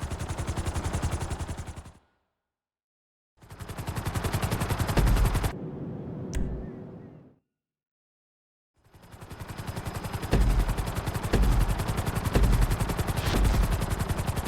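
Helicopter in GTA 5 running a timed flight-school obstacle course around the city: a loud, steady rotor chop that drops out twice into silence before resuming, with no voices.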